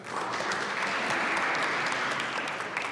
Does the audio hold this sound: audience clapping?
yes